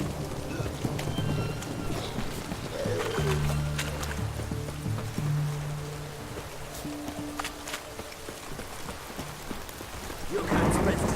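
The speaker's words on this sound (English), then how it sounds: "The storm, damn it." Rain pours steadily through a thunderstorm in The Witcher 3, with deep rumbles of thunder rolling underneath, a few horse hoof clops, and a louder crack near the end.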